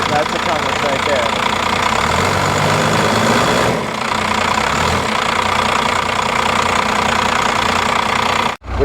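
Old Cummins diesel in a rotting plow truck that had sat for a long time, idling close by with a rough, knocking chug that cuts off abruptly near the end.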